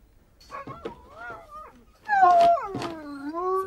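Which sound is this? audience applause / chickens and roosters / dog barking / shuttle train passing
dog barking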